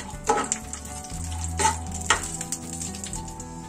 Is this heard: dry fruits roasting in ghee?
yes